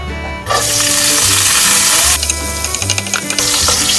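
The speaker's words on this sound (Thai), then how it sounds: "น้ำมันทอดครับกระเทียมครับ" Garlic frying in hot oil for a Thai seafood rat na dish, a loud, steady crackling sizzle that swells after a brief quiet start, with stirring clatter over a low background hum.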